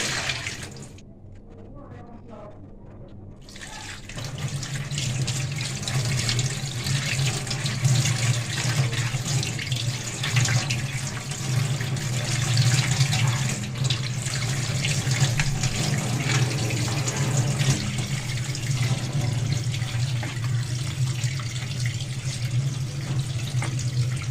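Tap water runs steadily into a sink while soaked dried oyster mushrooms are washed, a continuous close splashing stream after a brief quiet start.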